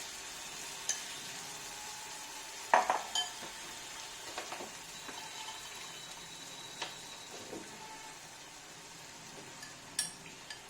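Pumpkin fries softly in a pan as a yogurt and spice mix is added and stirred in, a faint steady sizzle broken by scattered spoon scrapes and small clinks.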